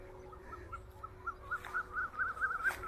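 Soft, repeated bird calls chirp steadily over a low background hum in Thailand, growing slightly louder toward the end; no clear clucking stands out.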